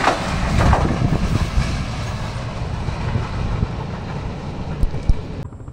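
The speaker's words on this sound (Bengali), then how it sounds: "ঢাকা থেকে উত্তরবঙ্গের ট্রেন যাচ্ছে গাজীপুরে, তীব্র বাতাস।" A commuter train bound from Dhaka to North Bengal crosses a railway bridge at Karkhana Bazar, Gazipur, on the Turag river in strong wind, heard as a broad, close rumble with faint wheel clatter and wind noise that tails off at the end.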